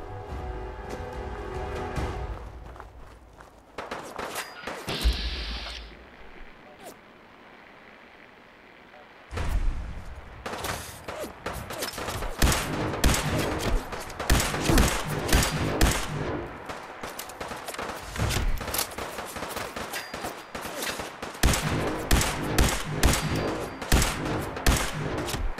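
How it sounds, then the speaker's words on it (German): Gunfire in the video game Fallout 4, bursts of shots and loud impacts with a lull in the middle, then dense repeated cracks and booms resuming at full intensity. "Hat doch gerade wieder noch einer geschossen."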